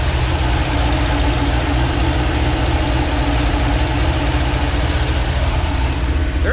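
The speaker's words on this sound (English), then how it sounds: "There's quite a bit of valve train chatter on this thing" Worn Corvette engine idling steadily, close and loud, with a dense continuous rumble and fine ticking valve train chatter running throughout.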